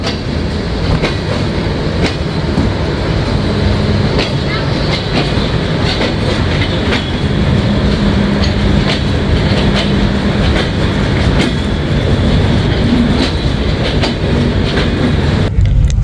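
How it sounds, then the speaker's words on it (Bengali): The Chitra Express passenger train runs steadily along the tracks between Khulna and Dhaka, a continuous loud rumble with rhythmic clickety-clack wheel beats throughout, heard from on board. "একতা এক্সপ্রেস প্রবেশ করার সাথে সাথে আমাদের ট্রেনটি ছেড়ে দিল"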